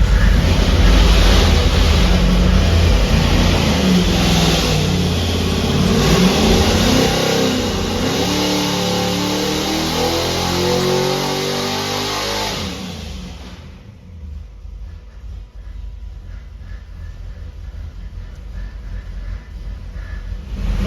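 A dyno pull on an engine loaded by a water brake absorber: a loud, sustained roar for about thirteen seconds, then a sudden drop to a quieter, lower-level hum.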